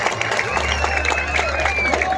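Audience applause at a Hindi poetry gathering, steady clapping from a crowd for a couple of seconds under a faint low hum.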